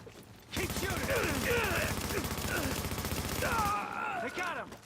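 Dense sustained automatic gunfire from a firefight in The Division during a global event, continuous rapid bursts lasting several seconds, loud and close, with faint voices underneath.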